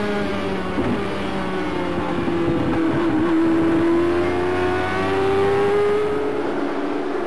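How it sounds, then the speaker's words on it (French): An onboard stock car engine roars continuously during a BF Goodrich 200 race, loud and close, its pitch climbing steadily as it accelerates, with no talking. "On écoute à bord de la voiture"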